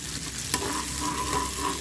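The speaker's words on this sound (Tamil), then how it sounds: "பாருங்கள், பேனில் ஆயில் ஊற்றியாச்சு. எண்ணெய் காஞ்சோன்னா ஆனியனை போடுறேன்." Onion dropped into hot oil in a pan, a brief burst of dense, loud sizzling with a quick scrape of a stirring spoon, close and without speech.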